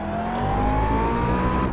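A race car in the Project CARS driving game holds a steady engine drone on a circuit lap, its pitch climbing slowly and evenly as it accelerates, loud and close throughout.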